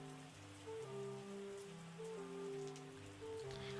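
Rain falls steadily in the farming video game Terroir, a soft continuous patter under a looping melodic music track, with no talking.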